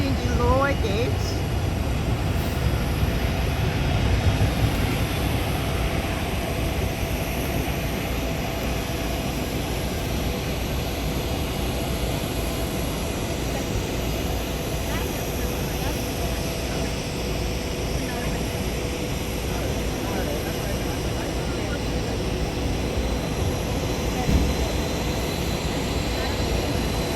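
Air Force One, the presidential jet, at an international airport for a G20 summit, giving off a steady, broad jet engine roar that fills the scene continuously, with voices audible over the noise.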